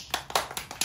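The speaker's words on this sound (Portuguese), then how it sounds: "Palmas aí" Brief applause for a guest accordion player from southern Brazil, a few light, quick claps spaced unevenly, close and fairly quiet, without talk.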